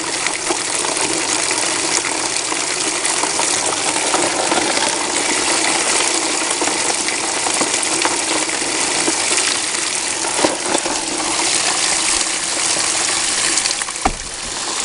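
Water and gravel rush steadily down the sluice of a homemade bucket high banker, a loud continuous gushing wash with small stones rattling and clinking through it, a sharp knock near the end.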